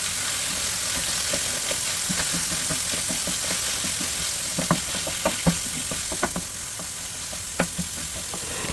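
Minced chicken fries in a hot pan with a steady sizzle, punctuated by light scraping and stirring clicks from a utensil, moderately close and without talk.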